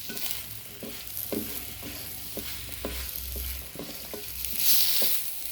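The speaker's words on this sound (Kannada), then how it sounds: "ಈಗ 1 ನಿಮಿಷ ಹಾಗೆಯೇ ಫ್ರೈ ಮಾಡ್ತಾಯಿದ್ದೀನಿ" Masala frying and sizzling in a pan for tawa pulao, with a spatula scraping and stirring in steady repeated strokes under a constant hiss, close and moderately loud.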